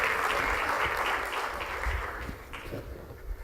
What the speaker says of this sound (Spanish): Carlos Magro Mazo, con el aplauso de todos ustedes, si son tan amables.